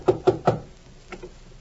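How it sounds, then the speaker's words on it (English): Three quick raps on a door in an old-time radio drama, evenly spaced and fairly close, then a fainter pair of knocks after a short pause, with no voices. "I'm knocking at the door."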